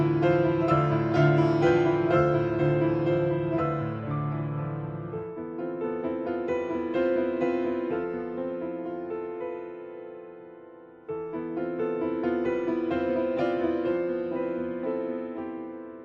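Gwyn, Lord of Cinder boss theme from Dark Souls Remastered: slow, sustained orchestral music with a low piano-like line, swelling in phrases with a brief dip before rising again, no talk.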